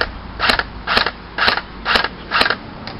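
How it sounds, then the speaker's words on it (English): A Classic Army SL8 airsoft rifle fires five evenly spaced semi-auto shots, each a sharp, close snap about half a second apart, with a quiet pause between them. "So here's the gun, the Classic Army SL8 in semi-auto."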